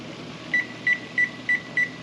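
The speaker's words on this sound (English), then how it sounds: "So we're gonna go ahead and set the timer." A kitchen timer being set beside a turkey brine pot on the boil, giving five short, evenly spaced electronic beeps over a low steady background hum.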